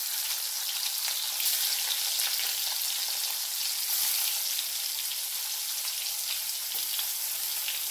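Brinjal pieces fry in hot oil with curry leaves, giving a constant dense sizzle with fine crackling and spluttering pops throughout, close and steady.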